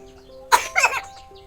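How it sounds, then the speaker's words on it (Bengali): A young girl with a cold coughs twice in quick succession, the harsh bursts loud and close in an otherwise quiet room with a faint background hum. "দেখেছো মেয়ে ঠান্ডা লেগেছে, কাশি হচ্ছে প্রচন্ড।"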